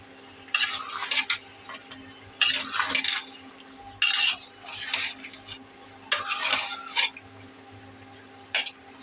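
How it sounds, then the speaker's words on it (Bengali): Snakehead fish and bottle gourd curry being stirred in a pot, with five or six short bouts of spoon scraping and clattering against the metal, spaced by brief quiet gaps over a faint hum. "এখন ভালো করে লাড়া দিয়ে আবার ঢেকে দেব।"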